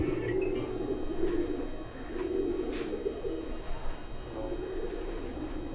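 Pigeons kept by a hobbyist coo in low, repeated rolling calls, several birds overlapping close by with a steady background hum and no talk.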